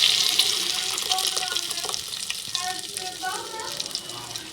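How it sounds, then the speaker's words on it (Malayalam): Water splashes and swirls inside a mixer jar being rinsed out, a steady close rush that gradually eases, with a faint sizzle of paneer matar masala cooking in the background. "ഈ മിക്സിക്കകത്ത് അല്പം വെള്ളം ഒഴിച്ച് മിക്സി കഴുകി ഒഴിച്ച് കൊടുക്കാമേ"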